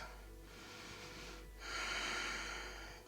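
Breathing during a slow vinyasa yoga flow, a soft steady exhale that fades, then a stronger, louder breath swelling after a short pause, close and alone over a low constant hum.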